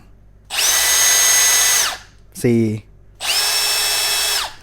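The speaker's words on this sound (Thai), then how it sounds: "โหมดนี้ก็จะกระแทกด้วย เดี๋ยวผมจะลองให้ดูนะ" A Milwaukee M18 FID3 cordless impact driver in impact mode runs in two loud, steady bursts of high whirring, each about a second and a half long. A short spoken word falls in the gap between them.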